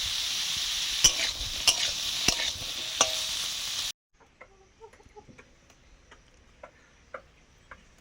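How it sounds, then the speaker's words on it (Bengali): Bitter gourd, pumpkin and carrot fry together in a pan, sizzling with sharp ladle scrapes and taps for a few seconds, then cutting to a quiet scene with scattered faint ticks. "ভাজা হচ্ছে করলা"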